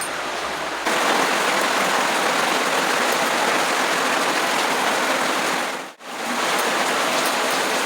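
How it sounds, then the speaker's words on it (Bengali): Heavy rain pouring down in a dense, unbroken hiss and roar that stays loud and even throughout, apart from a very short dropout near the end. "আর এত জোরে বৃষ্টি হচ্ছে যে আমার আওয়াজটা হয়তো শুনতে পাবে না"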